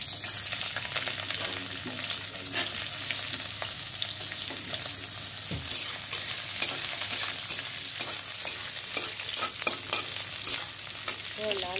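Onion and green chili fry in oil for an egg curry, a continuous close sizzle with the scrape of stirring and occasional sharper clinks of a utensil against the pan.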